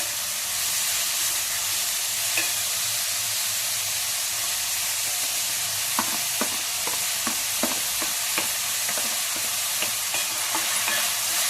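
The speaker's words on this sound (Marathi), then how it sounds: "आता कांदा चांगला परतून देऊ आपण 5 मिनिटं." Finely chopped onion sautéing in a pan for vatana misal, a steady broadband sizzle with a run of sharp stirring clicks and scrapes in the second half, close and continuous with no voices.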